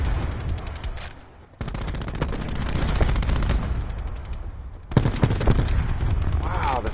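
Heavy high-recoil gun in the video game Stingray firing in rapid bursts, close and loud, with a brief pause near the start and another burst toward the end.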